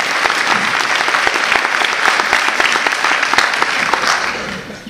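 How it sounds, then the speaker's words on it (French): Loud, dense applause from a convention audience at the Toulouse Game Show for the speaker's wife, a continuous roar of many clapping hands that holds steady before tapering off at the end. "Oui, vous pouvez l'applaudir."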